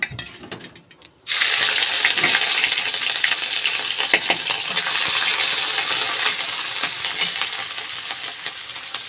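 Bay leaves, dried red chillies and cumin seeds hit hot oil for a khichuri, bursting into a loud, steady crackling sizzle after a quiet start, with scattered pops and spits throughout and no talking.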